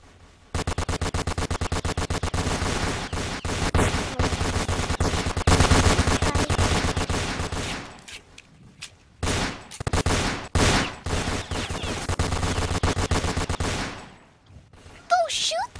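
Rapid bursts of automatic gunfire in a Roblox shooter game, loud and sustained, then breaking into scattered separate shots, with players' voices talking over parts of it.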